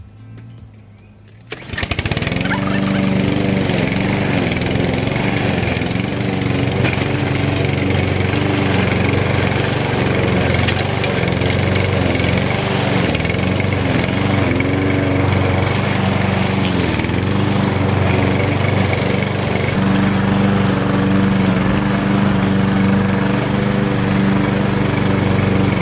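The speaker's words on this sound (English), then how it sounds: "lawnmower did the trick" A lawn mower starts up after a brief quiet moment and then runs steadily and loudly close by outdoors in a garden near a chicken coop, its engine drone holding constant for the rest of the stretch.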